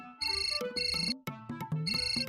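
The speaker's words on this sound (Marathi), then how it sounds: "हो फोन वाजतोय तुमचा." A mobile phone ringtone plays close and clear, a repeating electronic melody with pulsing tones and short gaps, no voices over it.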